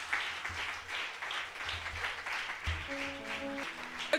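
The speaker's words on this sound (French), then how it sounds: "l'église a applaudi" A church congregation claps together at a women's prayer service, with steady, moderately distant applause running throughout and a few tonal voice or instrument notes surfacing toward the end.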